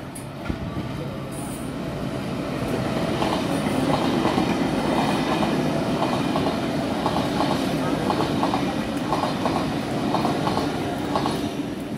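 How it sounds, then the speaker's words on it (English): A metro train rumbles steadily past St Marys station with rhythmic clickety-clack from the wheels, loud and close, with a faint squeal early on. "So there goes two trains"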